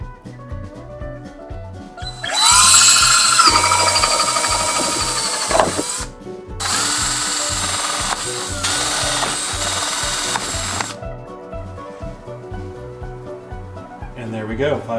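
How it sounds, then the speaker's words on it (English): A power drill with a 5/8 inch paddle bit bores holes for lug bolts while installing a LED third brake light on a Jeep Wrangler, a loud whining motor revving in two long bursts with a short pause between them. "I'm going to be drilling some holes for the lug bolts to go through."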